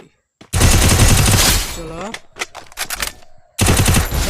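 Bursts of rapid automatic gunfire from a shooting video game aiming for headshots sound loud and close, with a long opening burst, scattered single shots, and another burst at the end.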